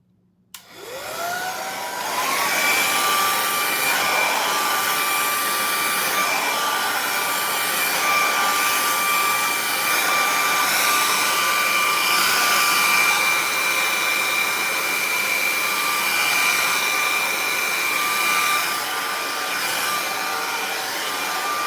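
A hair dryer fitted with an attachment switches on and runs at a steady whine, a loud, continuous airy roar with a high tonal hum that holds for about twenty seconds.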